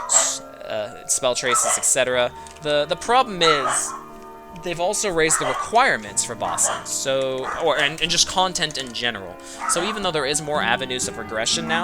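Dogs bark and yip in the background, partly masked by someone talking continuously over them.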